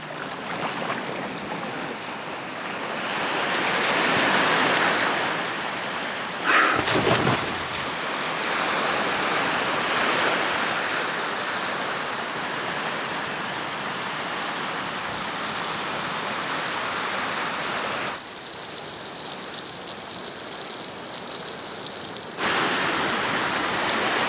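Strong currents and heavy surf churn through the Rangiroa channels, a loud, continuous roar of rushing water with brief sharper surges and one abrupt drop in level partway through.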